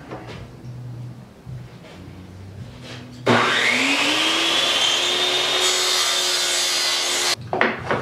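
A miter saw spins up and cuts through a reinforcement ring, a loud close whine with a rising pitch that runs steadily for about four seconds before stopping, with quieter handling noises before and after.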